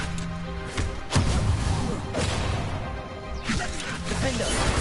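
A Confringo explosive spell cast in the Hogwarts Legacy video game bursts with sharp crashes and thuds amid dense battle noise, and a voice speaks over part of it.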